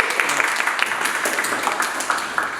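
An audience at a town hall meeting on data centers on the Qualla Boundary applauds. The clapping is dense, steady and fairly loud, filling the whole stretch without a break.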